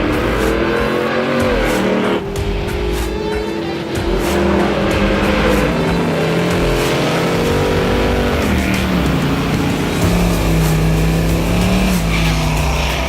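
American muscle cars at a dragway roar loudly and continuously, engines revving and accelerating hard with shifting pitch, the sound close and dense throughout.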